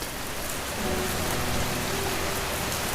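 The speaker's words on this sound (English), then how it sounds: "The sound of the rain and your presence is enough for my heart." Steady rain falling and pattering on a surface, a dense, even wash of drops that holds at the same level throughout, with no voices.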